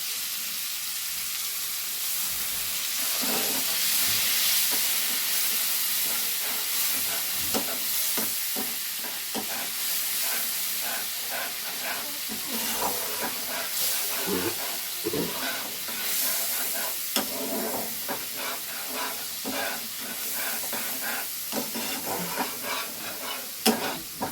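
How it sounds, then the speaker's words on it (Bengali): Spiced paste for a fish curry with brinjal being sautéed in a pan, giving a continuous hissing sizzle with repeated spatula scrapes and clinks, close and steady, with no voices. "তা ভালো করে মশলাটাকে কষে নেব।"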